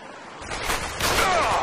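A sentry gun in a video game fires a short burst of rapid shots, rising in loudness over under two seconds amid game noise.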